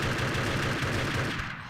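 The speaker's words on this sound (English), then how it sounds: "Hem throwing some shots through the smoke" Rapid gunfire in the video game Urban Terror, a fast burst of repeated shots fired through smoke during a competitive France versus Italy match, dense and steady before tapering off.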